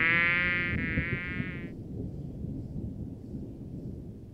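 A cartoon fly gives a loud, harmonic buzz for about a second and a half, then stops, leaving a low rumble like a stormy night with thunder behind it.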